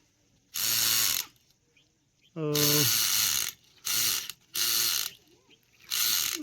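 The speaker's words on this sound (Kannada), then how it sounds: "ಗಾಡಿದು ಗೇರ್ ಭಾಳ ಸ್ಲಿಪ್ ಹಿಡಿಯತೈತಿ ಫ್ರೆಂಡ್ಸ್ ಚೇಂಜ್ ಮಾಡ್ಬೇಕು ಅನಿಸುತ್ತೈತಿ" Gears slipping on an RC New Holland mini tractor: five loud bursts of rapid ratcheting and grinding, with a rising motor whine in the second burst and short quiet gaps between them.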